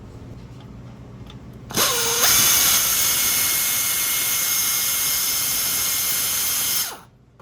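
A power tool spins up sharply and runs steadily for about five seconds at high pitch while backing a 13mm transmission bolt out of a 2016 Nissan Altima, then winds down; loud and close, no talk.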